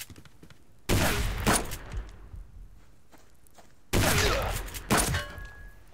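Weapon fire in the Subsistence video game: two loud bursts about three seconds apart, each a sharp crack followed by a second shot and a fading rumble, with no talking.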